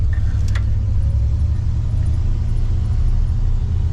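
A car with a Buick Nailhead engine running at idle, a steady deep low rumble that stays close and constant throughout with no one talking over it.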